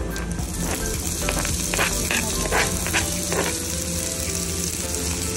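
Sliced onions frying in a pan with curry leaves and green chillies for a dosa potato filling, a steady close sizzle throughout with occasional stirring scrapes.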